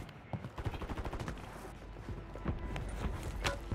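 Gunshots in Call of Duty Warzone, a rapid string of sharp cracks and popping bursts mixed with footsteps and movement, at moderate level.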